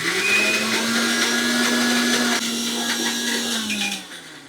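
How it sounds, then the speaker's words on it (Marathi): A mixer grinder whirs loudly and steadily for about four seconds, motor droning through thick mango pulp before winding down. "आता आपल्याला हे मिक्सरला चांगलं वाटून घ्यायचंय।"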